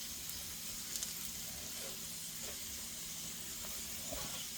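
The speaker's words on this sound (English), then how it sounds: "we'll put our pork steaks on there" Pork steaks sizzling on a hot oiled griddle, a steady, soft hiss of frying with faint crackles, even and continuous throughout.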